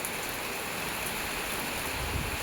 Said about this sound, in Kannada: ಅಪರೂಪದ ಮಳೆ ನಮ್ಮೂರಲ್ಲಿ, ಅಪರೂಪದ ಮಳೆ.